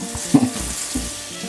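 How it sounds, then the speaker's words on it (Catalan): Chopped onion sizzles in a pan for a samfaina, with a steady crackling hiss and a few louder spits as it is stirred. No voices are heard. "Ara que tenim la ceba tallada, la fregim també perquè es vagi fregint"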